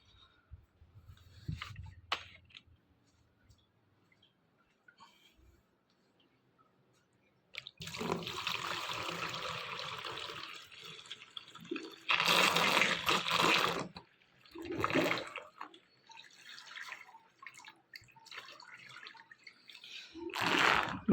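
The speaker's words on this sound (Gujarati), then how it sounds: "બે ડોલ પાણી નાખી દીધું છે મિત્રો" Bucketfuls of water are poured into a new air cooler, the splashing rushes coming in several bursts of a few seconds each after a quiet start, close and fairly loud.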